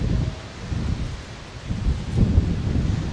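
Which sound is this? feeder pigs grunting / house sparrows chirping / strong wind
strong wind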